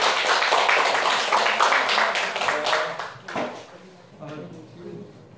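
Applause from an audience welcoming a guest lecturer at a staff and industry workshop at a Korean vocational high school. It is a dense, steady clatter of clapping for about three seconds, then it thins out and fades under faint voices.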